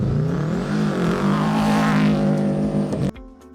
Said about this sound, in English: Drivers are ready to give it full throttle to see rallying return to the Flinders Ranges